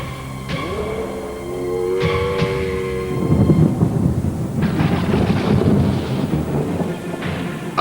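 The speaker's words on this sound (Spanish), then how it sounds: "estalla una violenta tormenta que desencadena un torrente de agua" A violent thunderstorm breaks out, with loud, close rolling thunder and crackling booms over a heavy downpour of rain that builds and continues to the end.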